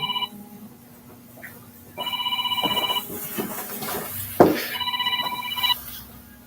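A telephone ringing during a public hearing: repeated electronic ring bursts with brief pauses, fairly clear above a quiet room, and a sharp knock partway through.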